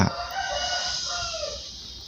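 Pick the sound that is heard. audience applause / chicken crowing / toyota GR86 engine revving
chicken crowing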